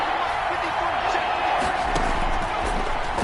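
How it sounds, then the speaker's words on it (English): Crowd at an American football game roaring and cheering ahead of a big third down, a dense continuous wash of noise with no single voice standing out. "The crowd getting into it as we come up on a big third down"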